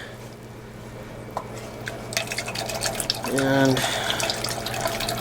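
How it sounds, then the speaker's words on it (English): Cornstarch and orange juice are poured into a hot pan for Sicilian orange chicken, a brief close liquid splash and pour near the end following quiet background hum, with a voice speaking briefly. "we add our cornstarch and orange juice"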